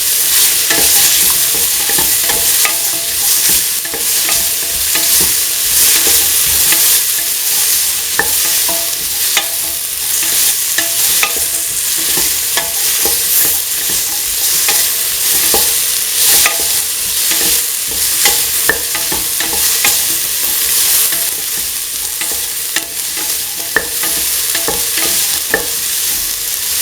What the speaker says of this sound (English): Thoroughly mix in the tomato pieces.